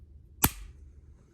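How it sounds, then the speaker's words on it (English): A Walther P22Q pistol's double-action trigger is pulled fully to the rear and releases a single sharp, crisp click, close and isolated against a quiet background. "You can hear that click all the way to the back."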